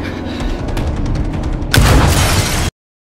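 Gunfire in a film scene crackles under a dense rumble, then a sharp, louder burst of booming shots hits before the sound cuts off abruptly.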